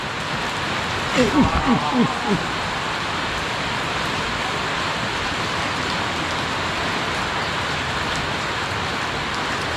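Steady, loud rain pours down on a campsite with a rooftop tent on a vehicle, a constant hiss throughout, with a brief burst of voices near the start.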